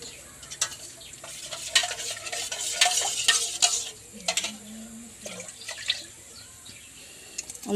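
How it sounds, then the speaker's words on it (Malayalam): Thick coconut milk poured into a boiling egg curry soured with bilimbi, giving a soft liquid rush with bubbling, stirring scrapes and scattered clinks of utensils against the pot, close by and moderately loud. "നമുക്ക് ഒന്നാം പാൽ ഒഴിക്കാം."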